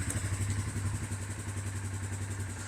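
A Polaris Sportsman 570 ATV engine idles close by after starting. It gives a steady, low, chugging putter with an even, rapid pulse and a faint clatter.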